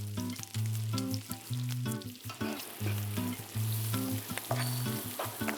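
Puffed rice frying with onions in a pan, a close, steady sizzle broken by rhythmic stirring scrapes and clatter, with no talk.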